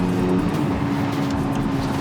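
Exhaust note of a 2022 Porsche 992 GT3 after a downshift, a deep, meaty, steady engine drone heard from inside the cabin, fairly loud and continuous.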